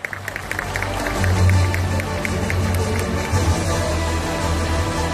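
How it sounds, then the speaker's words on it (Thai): Audience clapping at a corporate awards ceremony for a top-selling insurance broker, a dense steady patter of many hands over a deep humming background, building louder after the first second and holding to the end. "ขอเสียงปรบมือดังให้กับคุณณัครช"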